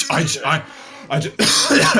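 Someone coughs and clears their throat in several harsh bursts, close and loud, with short gaps between them.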